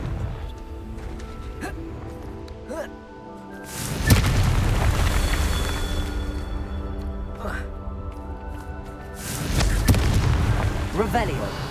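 A Confringo fire spell goes off in Hogwarts Legacy on PS5, producing two heavy booming explosions several seconds apart, each with a rumbling tail over a quieter game soundscape.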